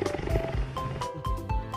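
Leopard roar from an animal toy, a loud, growling electronic roar in repeated bursts over a busy, music-like background, with no talk.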